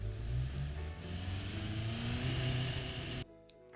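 A car engine in the game Automation revs and drones steadily with shifting pitch, fairly loud, then cuts off abruptly near the end.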